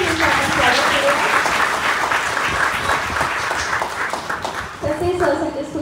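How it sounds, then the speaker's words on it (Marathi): A gathering at a church sermon breaks into loud, sustained applause to welcome a team, a dense wash of clapping that runs throughout with voices mixed in. "जोरदार टाळ्या वाजवून एक पूर्ण टीमचं आपण स्वागत करूया"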